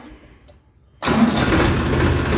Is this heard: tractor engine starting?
yes